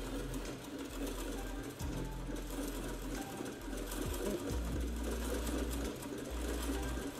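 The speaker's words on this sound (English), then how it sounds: "Go ahead and sew to your heart's content, Lily." A retro sewing machine in The Sims 4 hums with a steady, fast mechanical stitching rhythm, faint and continuous, with occasional brief pauses and game sounds behind.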